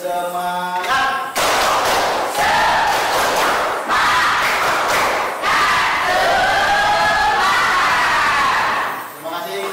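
Children in a classroom loudly chant the rhythmic 'tepuk semangat' spirit clap, with shouted call-and-response phrases and bursts of clapping following a teacher's voice.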